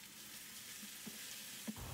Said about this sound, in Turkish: Evet, kıymalarımız tane tane olana kadar kavuralım.